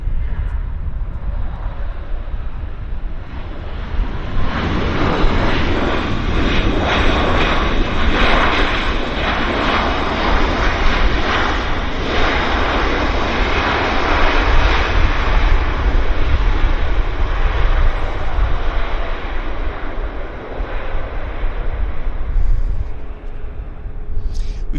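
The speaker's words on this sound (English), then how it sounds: "We've got a lander." A WestJet or Aeromexico airliner landing at Vancouver Airport, a loud sustained jet roar heard from a nearby spotting spot, swelling as it passes and then holding steady with broad rushing engine noise.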